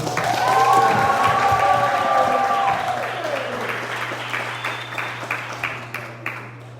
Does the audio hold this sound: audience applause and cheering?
yes